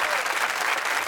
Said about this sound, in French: On peut encore l'applaudir, Stéphane Bern.